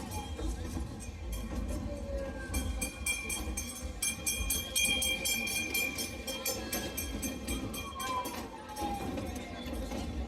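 A children's carnival train ride at a park fair, running with a steady rumbling and rhythmic clicking of the cars, set in a busy outdoor ambience.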